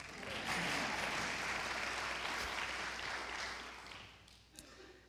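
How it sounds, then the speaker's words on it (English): A dense crowd applauds at a university business forum, sustained and fairly even for about four seconds before thinning out to a few last claps. "You can applaud."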